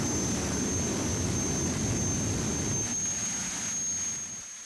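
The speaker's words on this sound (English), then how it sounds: "the engine out of a T-38 trainer fighter, the same thing that the astronauts fly today" A jet car powered by the engine from a T-38 trainer fighter roars with a loud, steady broadband rush and a high whine, easing off slightly toward the end, with no voices.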